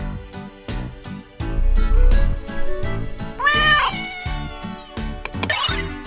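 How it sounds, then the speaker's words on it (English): A Maine Coon cat meows loudly and repeatedly, with several drawn-out calls close by and no other sound around them. "The Maine Coon is the largest domestic cat breed"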